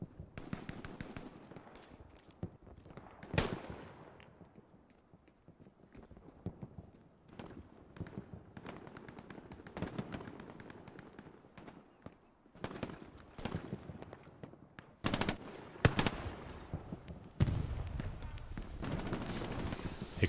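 Bursts of gunfire crackle through a multiplayer shooter firefight on a console public server, with repeated automatic volleys and sharp single shots at varying distances, growing louder and denser toward the end.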